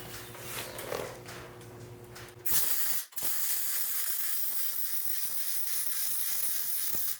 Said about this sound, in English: I'm just gonna put some stitch welds on the inside